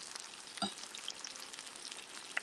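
Vegan oxtails sear in a hot pan, giving a soft, steady crackling sizzle with a few small pops and a light knock, faint and close with no voices.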